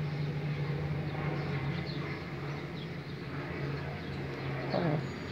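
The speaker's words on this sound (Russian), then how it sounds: "Надеюсь, вам слышно звук самолета." An airplane drones overhead on a foggy day while flowers are planted outdoors, a steady low hum that persists throughout, faint and distant, with a few soft bird calls in the background.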